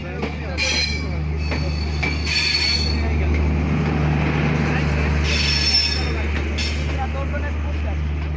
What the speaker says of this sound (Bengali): এই ট্রেনটা হলো খুলনা থেকে রাজশাহী পর্যন্ত